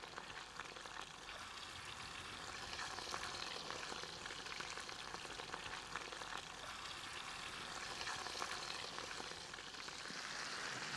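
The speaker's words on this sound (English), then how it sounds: "You want to have the fish nice and dry, of course, otherwise it's going to spit." Steady, dense sizzling and crackling of fish frying in olive oil in a heavy frying pan outdoors in the bush, continuous and close, with no talking.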